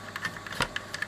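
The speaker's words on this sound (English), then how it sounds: "Can you hear it ratcheting on?" A handmade record-cutting machine ratchets beside a heatsink with a quick, uneven run of small mechanical clicks over a steady hum, close and fairly quiet.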